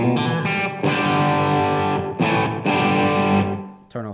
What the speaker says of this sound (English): so I typically have my ARP 87 set up using the slapback setting